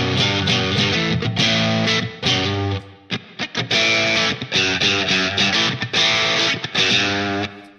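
An electric guitar runs through a Line 6 Pod HD500 on the Brit P-45 bright amp model at a setting of 50, playing loud distorted chords and riffs with brief choppy pauses and no talking.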